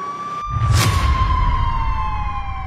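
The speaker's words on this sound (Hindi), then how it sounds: "पुलिस के सायरन की आवाज सुन रहे हो?" A police car siren wails steadily at moderate distance, a sustained tone that slowly drifts lower over a few seconds against background rumble.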